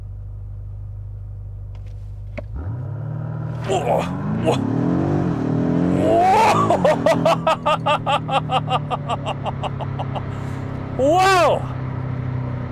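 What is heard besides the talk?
BMW M5 F90 Competition accelerating in launch control mode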